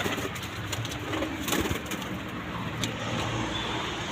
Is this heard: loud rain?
no